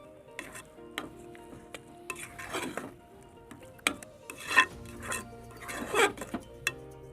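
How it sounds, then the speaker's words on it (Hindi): Khoya is mixed into egg halwa in a metal pan, with irregular scraping strokes and clinks of the spoon against the pan, close and fairly quiet. "इसको अच्छी तरह मिक्स करेंगे इस तरह"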